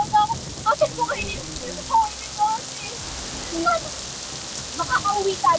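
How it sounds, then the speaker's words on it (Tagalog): Rain falls in a forest as a soft continuous patter, with scattered louder drops and intermittent voices talking over it. "Ulan lang to at kidlat."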